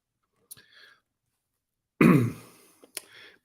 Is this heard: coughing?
yes